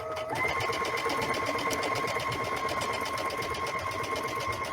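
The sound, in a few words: sewing machine stitching vinyl iron-on placemat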